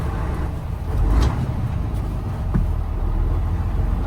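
A truck engine rumbles low and steady on a road test during a downshift, with a brief rise in revving around the gear change and a faint hiss, no voices.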